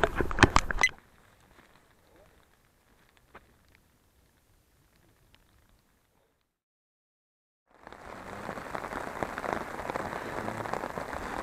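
Rain falls during a fishing trip on a small river in Karelia, a burst of patter at the start, then near silence, then steady dense rain pattering on a surface for the last few seconds.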